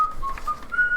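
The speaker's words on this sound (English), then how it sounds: "Start whistling to myself." A person whistles a short tune of a few clear, sustained notes with brief pauses between them, close and alone.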